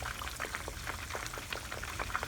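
Battered fish frying in hot grease gives faint, busy crackling and popping bubbles that sputter irregularly and quietly throughout.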